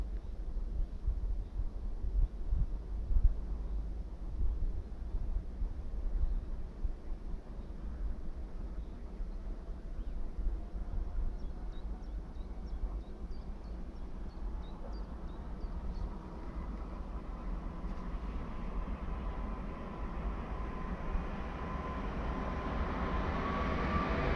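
An intercity train pulls away from a station in Mościce, a low rumbling drone that swells and brightens toward the end, with wind noise and no speech.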